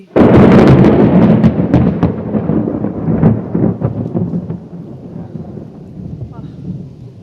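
A loud, deep rumble of thunder rolls out during a storm with lightning and slowly fades away, with faint rain or wind underneath.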